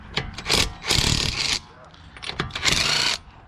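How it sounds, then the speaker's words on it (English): An impact gun spinning lug nuts on a 2003 Infiniti G35 during front brake pad and rotor work, heard as several loud, close bursts of whirring and rattling with brief pauses between them. "if you have an impact gun like I do, you can just get it on there like so and"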